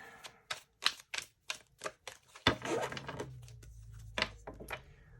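Tarot cards riffled and flicked by hand in a quiet room: a run of sharp, separate snaps is followed by one longer, fuller riffle with a low hum beneath, then a few more crisp flicks.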